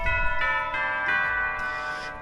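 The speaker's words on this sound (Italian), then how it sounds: "Il secondo layer sono delle campane tubolari" Tubular bells ring out in a Carol of the Bells arrangement, several bright sustained strikes overlapping into a shimmering, resonant tone that rings on without any talk.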